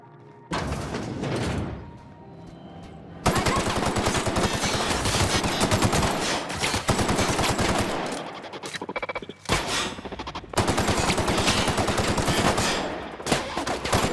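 Sustained automatic gunfire from Halcyon security robots fighting mantis creatures in The Outer Worlds, loud dense bursts filling most of the stretch with brief lulls between volleys, no talk over it.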